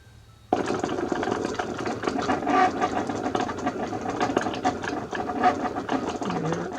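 A Cricut cutting machine slicing through a cork sheet gives a steady, close mechanical whirring and ratcheting drone that starts abruptly after a brief quiet moment and continues evenly.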